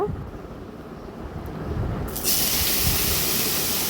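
Bottle gourd pieces hit a hot pan and are stirred for a prawn dish, a low sizzle that swells abruptly into a loud, steady hissing spray of steam halfway through.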